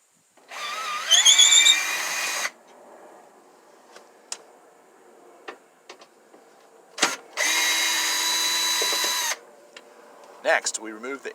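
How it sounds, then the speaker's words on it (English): A power drill spins out the seat bolts in a Ford Transit van, two loud whirring bursts a few seconds apart with clicks and clunks of handling between them in an enclosed space. "You can either use a ratchet or a drill to do the job."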